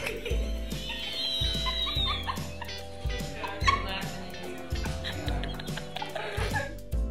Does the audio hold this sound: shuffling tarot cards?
no